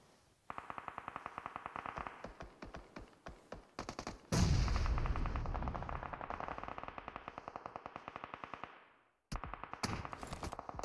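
Gunfire in the mobile battle royale game BGMI during a custom room tournament: loud rapid automatic bursts with a dense sustained volley in the middle, then clipped single shots, no voices.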